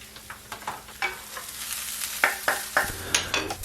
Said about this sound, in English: I'm going to saute some white onions until translucent